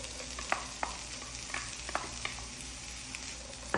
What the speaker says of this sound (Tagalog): Sinalang ko na itong pan at nilagay ko na siya ng oil at i-add ko na itong hiniwa kong onion.